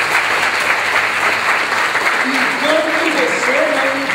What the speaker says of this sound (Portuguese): Aplauda o Senhor por essa palavra.